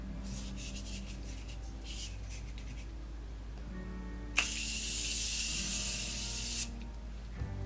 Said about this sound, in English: I'm going to go ahead and set my face with the Morphe Continuous Settings Mist